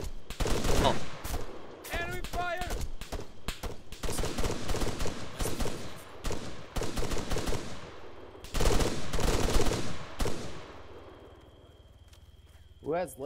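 Rapid bursts of automatic gunfire and scattered shots crackle through a military video game night paradrop, loud and near, with voices talking over the firing and a brief lull near the end.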